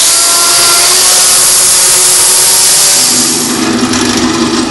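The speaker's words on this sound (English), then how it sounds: "the chainsaw." Chainsaw cutting larger pieces of yew or ash wood for a Windsor chair, a loud, continuous buzzing roar that holds steady and then shifts pitch slightly near the end as the cut changes.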